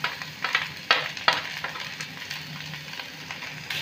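Bitter gourd peels and grated seeds frying in a pan, a low steady sizzle broken by several sharp scrapes and knocks of stirring, with no talk.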